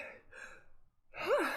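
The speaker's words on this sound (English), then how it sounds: "That was a sneeze that did not come out." A sharp intake of breath followed by a choked, cut-off sneeze, quiet and close, with a brief pause between.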